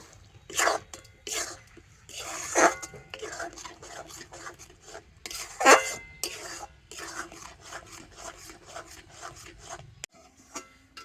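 Raw mango pieces being mixed with half a spoon of black salt in a bowl, giving soft rubbing and scraping strokes with a few sharper utensil scrapes, close and moderately quiet, with no talking.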